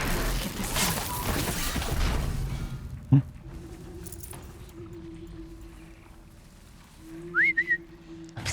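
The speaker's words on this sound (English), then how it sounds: "So now I should be able to whistle that thing over." Whistling to call a mount in the video game Horizon Zero Dawn: a short rising whistle near the end, after busy game noise, a sharp crash and a sustained low tone.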